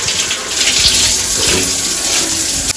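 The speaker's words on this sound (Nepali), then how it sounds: "योबाट चाहिँ पानी तातो आउँछ, योबाट चिसो आउँछ, योबाट मोटरको पानी आउँछ" Water gushes steadily from a hot water tap at home, a loud, continuous rush that splashes into a basin without pause.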